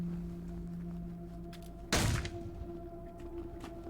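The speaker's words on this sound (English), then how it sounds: "Let's find out if I can just shoot it." A single sharp gunshot-like thump from the video game Wasteland 3 lands midway, loud and abrupt, over a steady game ambience hum with no talking.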